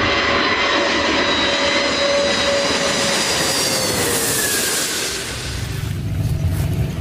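Engines of a large cargo airplane roar loud and close, a broad rushing drone with a whine that slides gradually lower as the plane passes.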